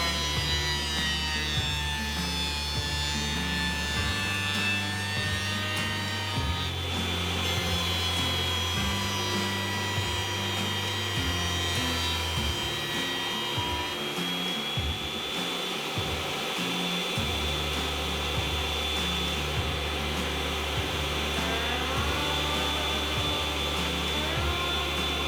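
An Axminster thicknesser planes wood with no dust extractor running, giving a loud continuous whine and roar that drops and rises as boards pass through, steady for the whole stretch with no talk.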